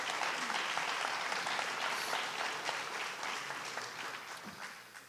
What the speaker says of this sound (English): So one more big round of applause for all of our student athletes.